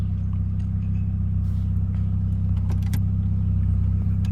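A 1986 Toyota Camry engine idles loudly and steadily, with a rough exhaust drone from a holed muffler or downpipe, plus a few faint clicks and rattles nearby.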